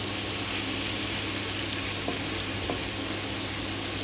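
Water poured into a hot pan of sizzling pork binagoongan, a dense, loud, continuous hiss and crackle of frying with a couple of faint clinks.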